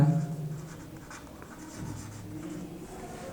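A pen or chalk scratches out a definition during a physics lesson on motion, soft, close strokes in short uneven runs.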